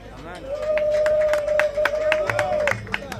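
Crowd applause for the Prime Minister at a political rally, with scattered claps and cheering from a large audience and a long, high, sustained tone held over the noise for about two seconds.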